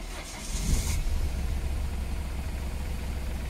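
A Smart 450 engine cranks and catches after a jump start, then settles into a steady, close, low idle rumble that carries on evenly.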